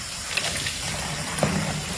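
Running water gushes steadily into a container at night, a continuous broadband wash with no pauses and a couple of faint knocks partway through, heard alone without talking.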